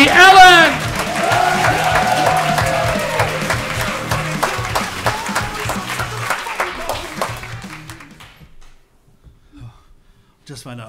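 An audience at a stand-up comedy show in Melbourne claps and cheers to welcome a comedian, loud and sustained applause with shouts that tails off into quiet after about eight seconds, with a voice over the start.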